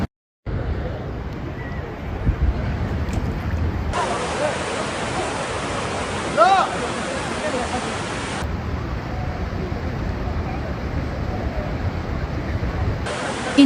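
Rushing floodwaters pouring in a steady, loud broadband roar that continues throughout, with a brief sharper sound partway through.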